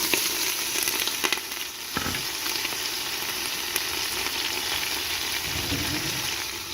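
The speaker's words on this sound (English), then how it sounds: "So I'm melting the butter in it right now, and it's on about medium heat. Okay, so now I'm adding the leeks in it." Leeks frying in melted butter in a pan over medium heat, a steady close sizzle and crackle with a few soft stirring scrapes, no talking.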